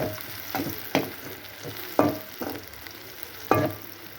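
Onions sautéing in a hot pan while making an egg podimas, with a constant sizzle and clear scraping stirs at irregular intervals, close and loud with no voices.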